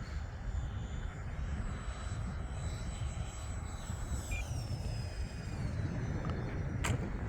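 An E-flite A-10 Thunderbolt II RC plane at about half throttle makes a steady whining ducted-fan drone over wind-buffeted outdoor noise, its pitch shifting as it flies.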